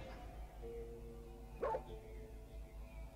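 A dog in the video game Foreign Creature 2 gives one short, faint bark over a low steady hum and soft background tones.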